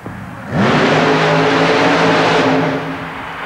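A super-modified four-wheel-drive mud racing roadster at an indoor coliseum in Uniondale, New York, in 1991. Its engine snaps from idle into a loud, sustained rising roar, holds steady for about two seconds, then eases off slightly.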